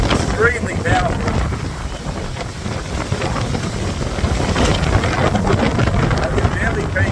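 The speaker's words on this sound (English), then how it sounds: "That wind is extremely powerful." Powerful storm wind in Manila buffets the microphone with a steady, loud roar and gusty rumble throughout, without letup.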